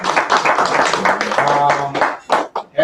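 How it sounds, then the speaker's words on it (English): An audience claps for a family at a talk on children under pressure, a short burst of clapping with voices rising over it before it breaks off into scattered claps near the end. "can we clap it up for the family"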